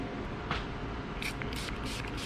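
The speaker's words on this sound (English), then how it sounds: "Now I'm going to spray a little bit of alcohol on top of these to get rid of the little bubbles" Several short hissing bursts of a spray bottle misting rubbing alcohol onto freshly poured melt-and-pour soap, over a steady low background hum, quiet and close.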